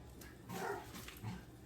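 A pet dog barks indoors in a home kitchen during cooking, a few yelping barks at moderate level, fairly close, with no talk over them.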